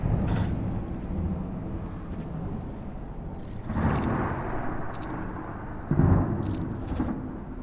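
Thunderstorm in the video game Smalland: a steady wash of rain with low rumbling thunder swelling around the four- and six-second marks, close and heavy, with no talk.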